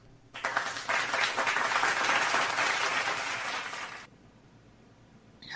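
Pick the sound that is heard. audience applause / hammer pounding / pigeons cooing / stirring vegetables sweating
audience applause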